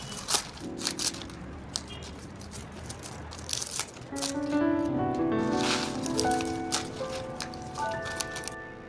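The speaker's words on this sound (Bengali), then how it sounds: "আমি চলে এসেছি এই যে ডালগুলো তেজপাতা ছিঁড়তে, কারণ ডালগুলো ছিঁড়ে ফেলে দিতে হবে" Dried bay leaves torn off their branches on a rooftop, with crisp crackling and rustling snaps in irregular bursts and a faint tonal sound running under the middle section.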